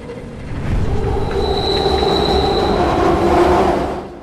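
A London Underground train runs in a video game, a steady loud rumble of wheels on rails with a thin high squeal through the middle, swelling in and fading toward the end, with no voices.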